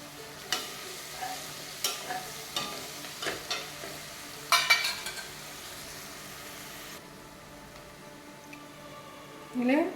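Onions sautéing in a pan for vegetable pulao are stirred with a spoon, giving a series of soft scraping strokes at a regular pace over a low sizzle. After that, the sizzle carries on quietly alone.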